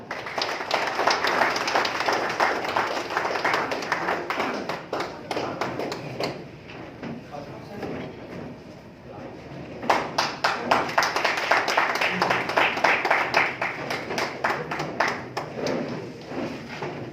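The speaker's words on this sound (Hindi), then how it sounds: "जोरदार तालियां।" At an evening function honouring social workers in an academy of fine art hall, an audience claps steadily in dense, sustained applause, which dips briefly midway and then swells back up.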